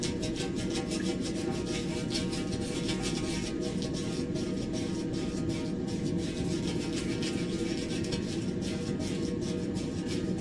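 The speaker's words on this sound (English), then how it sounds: "The next step is actually put on the rubber cement." Soft, steady scraping strokes of a brush spreading rubber cement onto a car tire patch, a continuous low rasp with rapid repeated rubbing and no talking.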